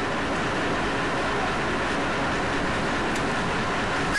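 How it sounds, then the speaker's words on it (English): A train on the Etna railway pulls into a station with a steady, broad rumble and rushing noise that fills the whole stretch at moderate loudness. "Here comes our train."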